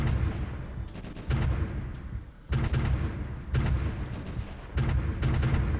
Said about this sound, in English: now our artillery is having quite pleasant afternoon of firing shells at the enemy